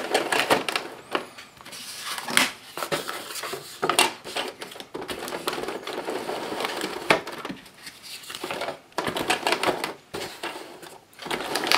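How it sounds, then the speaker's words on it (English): A Xyron adhesive machine feeds small pieces of paper through its rollers, giving repeated close crackling, clicking and rasping bursts with short pauses between passes. "I'm going to run it through my Xyron because it's quick for me"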